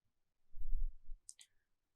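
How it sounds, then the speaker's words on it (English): A mouse click on an OK button in Power Query: a faint low thump followed by two quick, crisp clicks close together, isolated against near silence. "Clicking on OK, and there we go."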